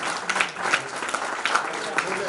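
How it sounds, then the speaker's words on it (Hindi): An audience at a national convention chapter presentation ceremony applauds loudly. Dense clapping continues throughout, with some voices faintly audible beneath it. "जोरदार तालियां बजनी चाहिए"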